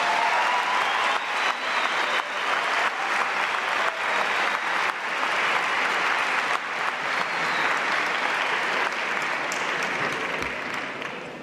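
Sustained applause from a lecture audience at a conference, dense and steady for about eleven seconds before tapering slightly at the end.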